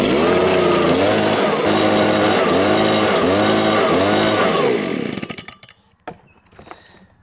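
A Stihl-style steel leaf blower with a two-stroke engine roars loudly at close range, its pitch wavering steadily as it runs, then the engine cuts out and winds down, leaving a few clatters.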